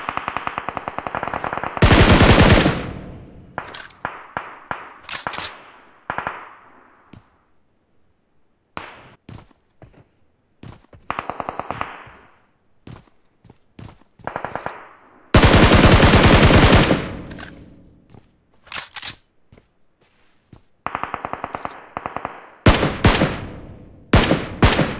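Loud automatic gunfire in the battle royale game PUBG Mobile: long sustained bursts alternate with quick short volleys and single cracks, separated by near-silent gaps, close and dominant throughout.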